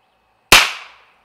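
.22 Long Rifle standard-velocity round fired once: a single sharp, close crack with a short decaying tail, alone with no talk.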